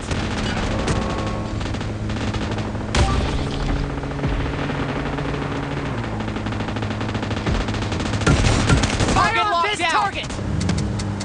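Rapid automatic gunfire bursts in the mobile shooter PUBG Mobile, loud and continuous with sharp single shots mixed in, while a voice talks over the shooting near the end.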